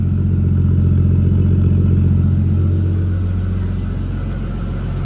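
A Nissan 240SX with an RB25 engine idles close by in a smooth, steady low rumble with an even, fast pulse, the level easing slightly toward the end.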